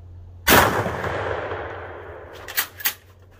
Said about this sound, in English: Shoot it one more time.